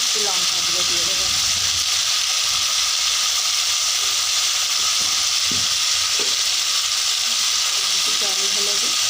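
Green chillies and turmeric fry in a pan with a loud, continuous hiss and sizzle, broken by occasional stirring knocks, close up and steady.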